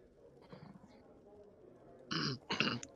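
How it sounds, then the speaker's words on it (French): A couple of short throaty coughs close to the microphone near the end, after a soft murmuring voice. "Je tousse et j'attends."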